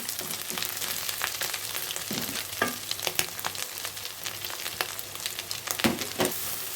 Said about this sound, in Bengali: মশলাটাকে ভালো করে নেড়ে ছেড়ে ভেজে নিলাম